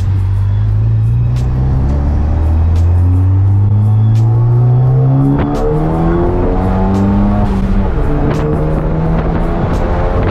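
A Ford Focus ST with a stage 2 tune revs hard and accelerates, its engine note climbing through repeated upshifts in loud, close, continuous bursts with no talking over it.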